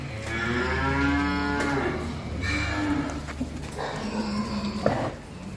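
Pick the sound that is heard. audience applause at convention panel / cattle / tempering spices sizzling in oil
cattle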